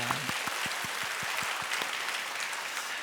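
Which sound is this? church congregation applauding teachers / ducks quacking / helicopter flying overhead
church congregation applauding teachers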